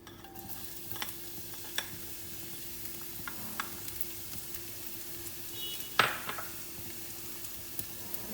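Oil heating in a pan before the ingredients for spaghetti carbonara go in, a faint steady hiss and low sizzle with occasional light clinks of a utensil against the pan, one sharper tap midway.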